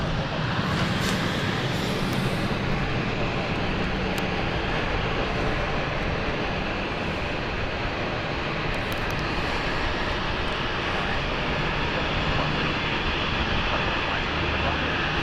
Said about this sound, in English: that's the police helicopter.